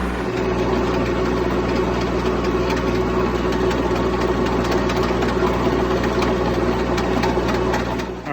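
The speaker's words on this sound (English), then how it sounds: "I'm just about to till the rows in between the veggies just to keep the grass down and the weeds from taking over my plants" A diesel tractor engine runs steadily while tilling the rows between vegetable plants, a loud continuous rumble with a constant hum and rapid mechanical clatter that holds without pause for the whole stretch.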